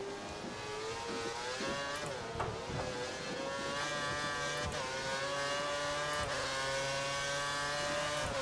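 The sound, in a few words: Formula 1 race car engines accelerating in F1 2013 video game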